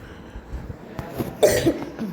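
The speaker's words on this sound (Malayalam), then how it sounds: "ചുമയൊക്കെയാണ്" A single short cough, close and fairly soft, after a quiet stretch.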